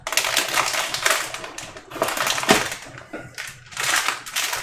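Plastic packaging around an ASUS ROG Strix X470-I Gaming Mini-ITX motherboard crinkles loudly and continuously during unboxing, with sharp crackling bursts and brief pauses, close to the listener.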